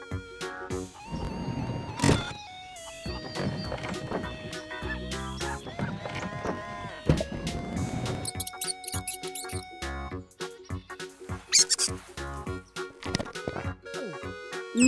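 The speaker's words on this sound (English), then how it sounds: "Mouse." A mouse squeaks in repeated high chirps over a busy children's music backing, with other animal sounds and clip-clop effects mixed in nearby.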